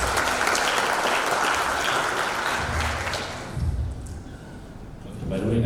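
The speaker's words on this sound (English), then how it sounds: "Let's give him a very round of applause" Dense applause from a conference audience at a tech community event, a thick wash of many clapping hands that tapers off toward the end, with low thumps and a voice returning at the close.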